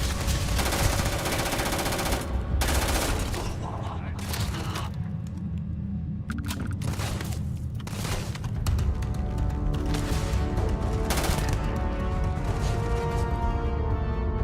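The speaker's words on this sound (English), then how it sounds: "Somebody's shooting from behind me." Dense, sustained gunfire from a Starfield firefight, with rapid automatic bursts and heavy impacts piling up almost without pause and loud throughout.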